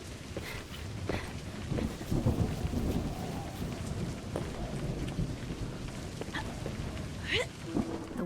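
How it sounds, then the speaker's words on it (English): Rain and thunder in the video game A Highland Song: a steady patter of rain with low rolling thunder rumbles and scattered sharper drops, moderately quiet and continuous, with no talking. "Of course, it's raining again."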